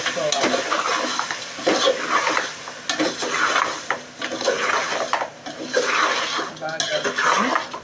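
Mutton curry stirred in a pan after starch water is added, a utensil scraping and clattering against the metal in repeated strokes, with a light sizzle underneath, close and fairly loud.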